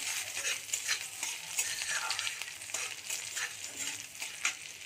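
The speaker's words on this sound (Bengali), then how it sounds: "এখানে খাওয়ার আগে চিংড়ি মাছটা ভেজে নিচ্ছি, অনেকটাই ভাজা হয়ে গেছে" Prawns fry in a pan with a continuous close sizzle, while a utensil stirs and scrapes them in repeated bursts.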